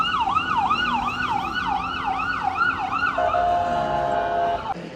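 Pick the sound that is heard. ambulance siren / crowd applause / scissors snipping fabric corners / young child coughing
ambulance siren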